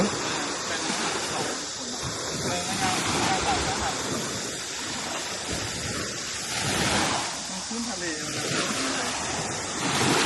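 Sea waves wash onto a beach at Ko Lan near Pattaya, a steady broadband surf rushing with swells around the middle and end, close and fairly loud, mixed with wind buffeting the microphone.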